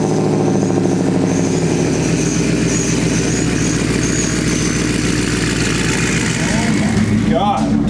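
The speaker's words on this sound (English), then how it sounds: "that truck is so f***ing loud" A loud truck engine runs steadily throughout, a dense continuous rumble with a slight change in tone near the end, while people talk excitedly over it.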